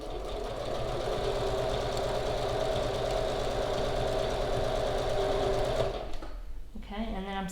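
A sewing machine with a regular foot, set to a 2.5 stitch length, stitches down quilt binding in a continuous, steady whir for about six seconds, then stops. A voice briefly follows.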